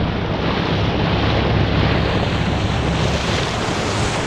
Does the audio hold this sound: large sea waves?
yes